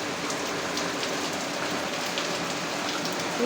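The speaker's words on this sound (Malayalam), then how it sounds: "നല്ല മഴയാണ് കേട്ടോ" Heavy rain pours steadily, a dense, even hiss of drops striking surfaces with no pauses, loud and close throughout.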